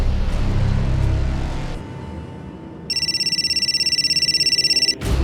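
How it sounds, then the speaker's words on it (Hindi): A telephone rings in a crime drama scene: a steady electronic trill of rapid, even pulses, loud and alone after a brief stretch of muffled background noise. "घंटी बजी।"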